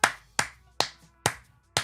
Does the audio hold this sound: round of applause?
yes